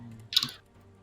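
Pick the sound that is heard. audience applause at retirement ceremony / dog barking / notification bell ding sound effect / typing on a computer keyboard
typing on a computer keyboard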